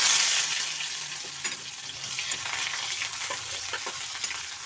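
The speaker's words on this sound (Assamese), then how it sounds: "পিঁয়াজখিনি অলপ লাল হোৱালৈকে ধুনীয়াকৈ ভাজিব লাগিব।" Onions fry in oil with cumin and dried red chilli, giving a continuous close, bright sizzle with scattered crackles and occasional stirring scrapes. The sound is loudest at the start, then settles to a steady level.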